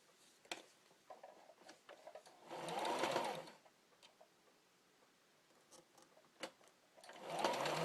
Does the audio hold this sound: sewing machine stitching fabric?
yes